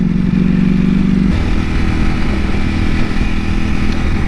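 A Ducati Panigale V4 SP motorcycle engine runs close by with a steady, throbbing burble, a brief rev at the start settling into a rough, rumbling idle.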